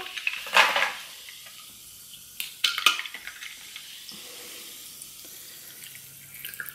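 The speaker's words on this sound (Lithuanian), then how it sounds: "Tai tiesiog įdedu ledukų." Ice cubes dropped into a glass of water, giving two close, bright bursts of clinking and splashing about two seconds apart, with quiet room tone in between.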